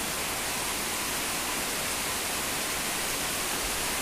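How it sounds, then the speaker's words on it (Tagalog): A heavy downpour makes a dense, steady, loud hiss with no breaks and no voices. "sobrang lakas ng ulan, ang lakas ng ulan"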